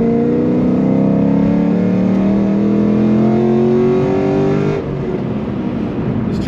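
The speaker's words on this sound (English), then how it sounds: "I'll do a little third gear at like 40 mile an hour rip now" A Chevy SS with manual gearbox and upgraded heads and cam pulls hard through third gear from about 40 mph, its tone rising steadily for several seconds before the throttle lifts and the roar drops away.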